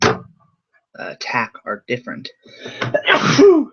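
A person sneezes loudly and abruptly at the end of a stretch of their own speech, a sharp single burst right after the talking.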